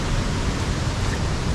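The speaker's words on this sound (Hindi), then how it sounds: "और पानी तो थोड़ा गंदा है, मिट्टी पानी गिर रहा है ऊपर से" Rajpuri waterfall swollen by rain, muddy water pouring from above in a dense, continuous roar of broadband rushing noise, loud and close with no pauses or voices.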